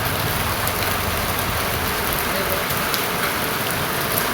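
Steady, dense rain drums without letup, a loud and close hiss with no talking.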